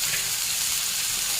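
Fish oil sizzling in a frying pan while being stirred: a steady, close, bright hiss of frying with no pauses.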